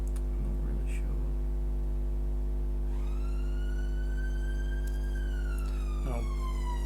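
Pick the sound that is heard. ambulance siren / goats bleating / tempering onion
ambulance siren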